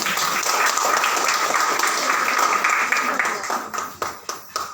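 A crowd applauding steadily at an International Mother Language Day and Chinese New Year celebration, dense clapping that thins out into scattered individual claps toward the end.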